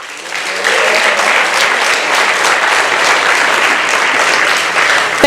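An audience at a council meeting bursts into sustained applause for the team, starting after a brief quiet moment and holding steady and loud to the end.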